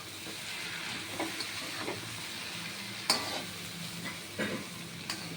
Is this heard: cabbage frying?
yes